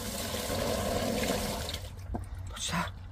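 Water rushes and gurgles steadily down a freshly cleared drain, a continuous close wash that thins out toward the end, with faint movement sounds.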